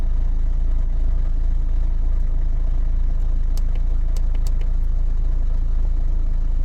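A car engine idling with a steady low rumble, loud and close, broken by a few faint metallic clicks near the end and no talk.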